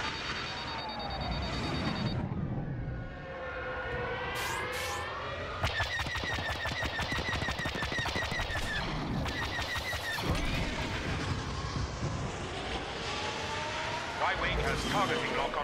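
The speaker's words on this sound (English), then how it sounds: "You've got a homing missile locking on." Homing missile lock-on warning in Star Wars Battlefront: swooping siren-like tones give way to a fast, steady train of electronic beeps, loud over battle noise with voices talking throughout.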